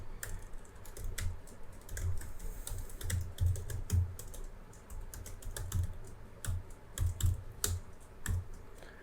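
Steady keyboard typing of code in a backend expense-service project, a run of close, crisp keystrokes with brief pauses, heard alone with no talk.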